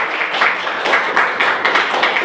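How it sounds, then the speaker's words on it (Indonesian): A classroom audience at a university teaching session breaks into applause, a dense, even patter of many hands clapping at moderate distance with no talk over it. "Tepuk tangan dulu untuk"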